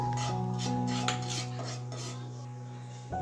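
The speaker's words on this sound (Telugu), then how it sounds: "ఇప్పుడు కొద్దిగా లైట్గా మనం వేయించుకుందాం" Ragi flour dry-roasting in a pan over low heat, stirred with a spoon: steady close scraping with light metallic clinks and rubbing, continuous for the whole stretch, no voices.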